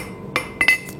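Hammer blows ring on a knife tip held at the anvil edge during forging, three sharp metallic clinks, one then a quick pair, bright and close over a quiet room.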